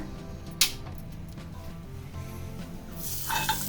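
Cucumber vada batter sizzling steadily in hot oil with a sharp clink of a utensil, the frying hiss growing louder toward the end.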